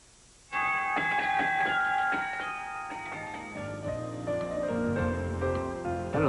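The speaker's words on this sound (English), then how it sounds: "I'm hearing bells." Bells chime a bright melodic sequence of sustained, overlapping tones that fills the room and carries on steadily, from the opening of a 1988 US morning TV news broadcast.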